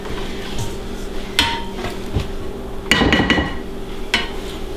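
Chocolate walnut torta batter being mixed slowly in a bowl, with close, irregular clinks and knocks of a utensil against the bowl, including one louder cluster of clattering, set against a faint steady background hum.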